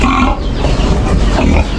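Pigs in a muddy farm pen, a mother pig among them, grunt and snuffle. The grunts are close and dense, filling a brief stretch of loud, continuous noise.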